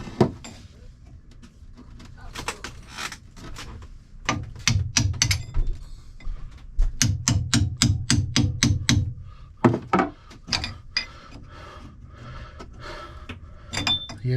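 Sharp metallic hammer strikes ring out in irregular bursts on a 1989 boat during stuffing box shaft seal packing replacement, some rapid runs of blows, others spaced apart, close by with quiet gaps between.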